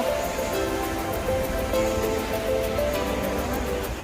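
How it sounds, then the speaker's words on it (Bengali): Sea waves at Digha beach wash in as a steady, even surf rush with faint tonal hum mixed in and no voices. "এই হলো দীঘার সমুদ্র"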